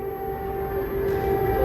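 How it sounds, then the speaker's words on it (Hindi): An air raid warning siren in Kyiv sounds as a steady, sustained tonal wail from a distance, holding one pitch throughout over a low background hum. "लेकिन सबसे पहले इस सायरन की आवाज सुन लीजिए।"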